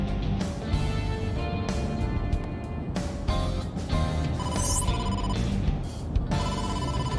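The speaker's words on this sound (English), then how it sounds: "incoming call from the boss" An incoming phone call rings in the video game AI: The Somnium Files with repeated electronic ringtone bursts in a steady pattern over a low game background hum, and no one speaks.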